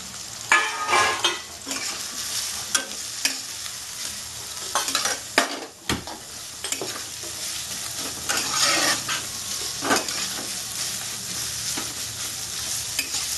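Chopped onions fry in a little oil for Bengali-style chilli chicken, a continuous close sizzle broken by repeated scraping and clinking stirs of a spoon in the pan.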